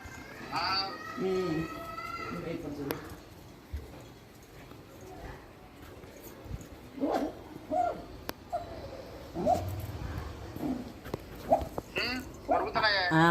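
High, thin whimpers and squeaks from small puppies come in scattered bursts, interspersed with quiet stretches and occasional nearby talking.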